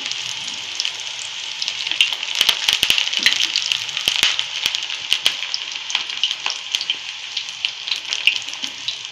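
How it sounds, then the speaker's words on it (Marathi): Chakli made from bhajani dough frying in hot oil over a very low flame, with continuous sizzling and sharp crackling pops bursting irregularly throughout, close and fairly loud. "पाण्याचा हात लागला तसा आवाज येतो तडतड"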